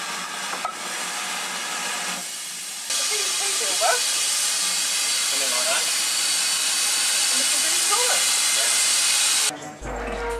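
A steam locomotive on a heritage railway hisses steadily as it comes up to couple onto its train, a broad continuous hiss with a few brief whistle-like chirps, loud and close throughout.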